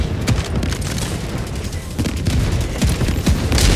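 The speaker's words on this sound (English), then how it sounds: "Throwing grenade." Dense grenade and gunfire blasts from the co-op shooter Helldivers 2, a chaotic run of booming impacts and rapid shots overlapping close and loud, with no voices.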